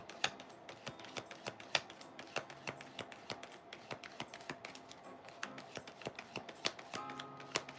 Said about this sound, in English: I'm going to put them back and keep shuffling until I get